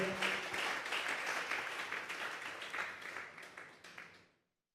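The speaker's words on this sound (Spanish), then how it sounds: "Dele esa ofrenda de palmas" During a Spanish-language Sunday church service, a congregation gives sustained applause, loud and dense at first, then gradually thinning before it stops abruptly near the end.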